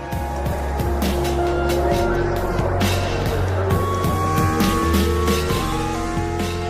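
Formula One cars on the 2005 Indianapolis formation lap drone steadily, with engine tones rising and shifting as cars pass at moderate distance, while a commentator talks over them.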